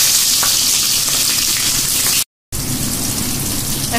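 Onion and a bay leaf frying in oil on a gas cylinder stove, a dense, loud, close hiss of sizzling that runs continuously apart from a brief cut of silence partway through.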